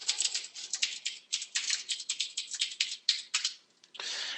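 Someone types code on a computer keyboard in quick, uneven bursts of close, crisp clicks, with a short pause near the end before a final run of keystrokes.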